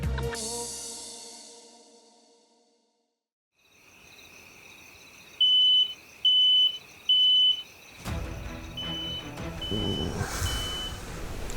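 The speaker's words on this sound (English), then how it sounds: "The smoke alarm." Three loud, shrill electronic beeps from an alarm sound in a row after a quiet stretch, followed by softer repeating chirps and background noise.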